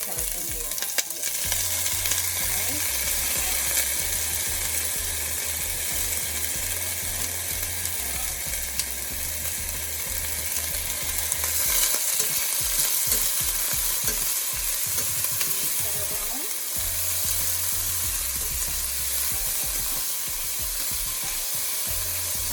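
Vegetables, including carrot, sizzle steadily in a hot pan for brown stew fish while a utensil scrapes and stirs them in repeated rhythmic strokes, close and continuous with no talking.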